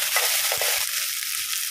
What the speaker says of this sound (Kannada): ಶುಂಠಿ ಬೆಳ್ಳುಳ್ಳಿ ಪೇಸ್ಟಿನ ಹಸಿ ವಾಸನೆ ಹೋಗುವವರೆಗೆ ಇದನ್ನು ಫ್ರೈ ಮಾಡುವ